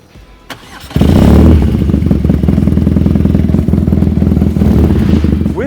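A BMW R nineT motorcycle fitted with a custom short exhaust starts and idles loudly and close, with a deep, throbbing, steady rumble following the start-up burst.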